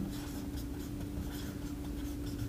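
A pen scratches across paper as a definition is written out by hand, a soft, steady scribbling heard close up with no talking.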